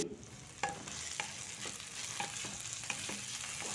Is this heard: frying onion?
yes